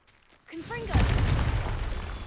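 A Confringo explosive spell in Hogwarts Legacy goes off with a sudden loud blast, after a brief magical whoosh, then a sustained rumbling roar that lingers.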